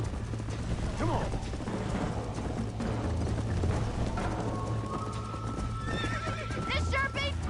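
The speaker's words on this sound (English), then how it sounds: "I haven't got used to the horse yet." A horse in the Red Dead Redemption video game whinnies loudly over steady clip-clopping hooves and game music, with voices talking alongside.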